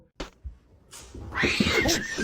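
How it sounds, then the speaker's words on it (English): A black cat in a basement lets out a harsh, drawn-out caterwauling yowl, rising after a couple of faint knocks and sustained loudly to the end. "The dark shape is revealed to be a black cat bolting out of the basement"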